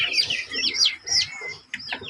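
Chickens clucking in a pen, with tiny hatchlings kept among larger meat birds; close, busy high-pitched peeping and chirping in quick overlapping bursts, no speech.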